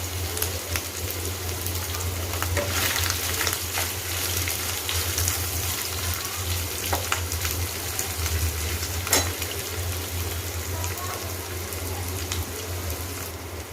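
Paneer fries in hot ghee with a loud, steady sizzle and crackle, scattered sharp pops and occasional scraping stirs over a continuous low hum, and no voices.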